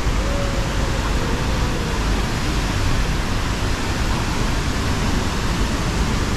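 Tegenungan Waterfall in Ubud, Bali roars with fast-running water, a loud, dense and unbroken rush that stays constant throughout with no voices.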